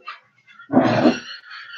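A dog gives a single loud, close bark with a short whiny tail, the only clear sound amid an otherwise quiet room.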